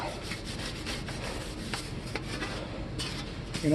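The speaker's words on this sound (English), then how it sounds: "we're still going to use Scotch-Brite" Scotch-Brite abrasive pad scrubbing the surface of aluminum costume armor, a quiet, close, rapid back-and-forth rasping rub with uneven strokes and no voices.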